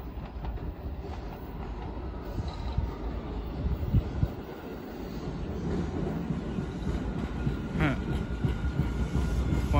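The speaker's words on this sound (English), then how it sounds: "Here goes the train." Train passing at Suffolk Downs station, a loud continuous rumble and rattle of rail cars rolling by close up, with faint metallic squeals near the end.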